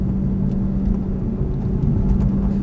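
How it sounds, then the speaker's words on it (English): Aston Martin DB9 accelerating up a straight during a driving experience, a steady loud engine rumble and whir heard from inside the car, continuous without breaks. "And accelerating a bit up the straight."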